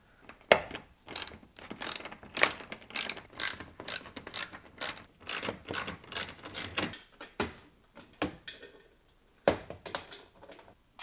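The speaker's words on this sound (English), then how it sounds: "after removing these 3 bolts and loosening these 2, this panel should just kind of, slip right out" A ratchet wrench clicks in repeated short bursts while bolts are backed out of a plastic trim panel on a 2025 Ram 1500 Rebel, close and crisp with brief pauses between strokes and no talk.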